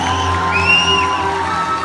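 An audience at a live concert in Houston cheers and whoops, a loud, sustained crowd roar with shrill whistles rising over it.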